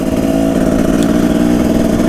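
Two-stroke Husaberg TE 300 motorcycle engine with a worn clutch, running steadily at a close, loud idle with a constant buzzing drone and faint rattle and no rises or dips.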